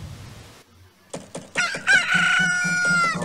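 A chicken-like cucco bird in the video game Majora's Mask gives a few short clucks, then a loud, close, drawn-out crow that carries on to the end.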